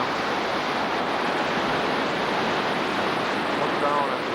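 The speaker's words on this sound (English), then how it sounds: "Look down at the rapids down there." Rushing floodwater from a flooded river pours around a dam and through rapids, a loud, dense, unbroken roar with no pauses.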